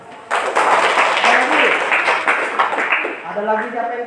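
Classroom applause from students during a counselling lesson on managing emotions, a loud burst of clapping lasting several seconds, with children's voices talking over it toward the end.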